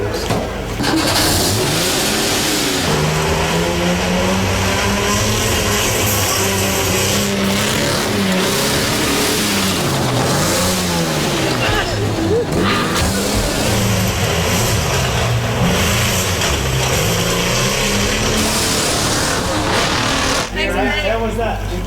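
A car engine revs and roars continuously while being driven on a film set, with rising and falling pitch sweeps as it accelerates, loud and close throughout, with people talking over it.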